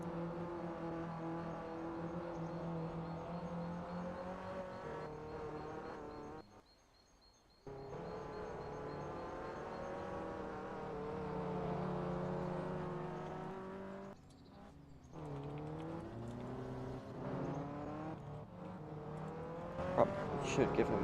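Mazda Miata Cup race cars run on a circuit under a yellow flag, engines droning and rising through gear changes with a few short lulls, a sustained close engine note throughout.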